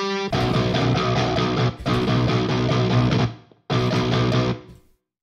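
A heavily distorted synth melody from the Odin 2 plugin run through Guitar Rig distortion, loud and dense with buzzing harmonics, playing in two sustained phrases separated by a brief gap, then cutting off cleanly.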